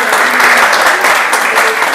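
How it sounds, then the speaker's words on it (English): Loud, dense audience applause for artists on stage at a work-in-progress performance presentation, sustained evenly from start to finish. "Can we give them a round of applause?"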